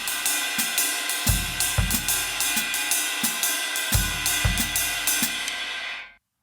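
Full Mozambique groove on a drum kit, ride cymbal and hi-hat riding steadily over bass drum and accented low hits, close and even for about six seconds before stopping abruptly.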